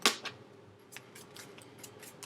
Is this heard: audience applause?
no